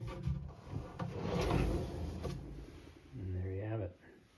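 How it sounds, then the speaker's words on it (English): Built-in drawer pullouts in a custom bedroom unit slide open and shut with a few soft wooden rumbles and knocks, close by, followed by a person speaking. "And again with the drawer pullouts."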